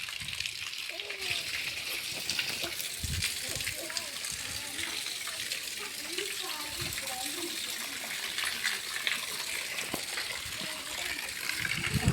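Morning rainwater gushes and splashes steadily outside a house doorway, a constant rushing wash while someone talks over it.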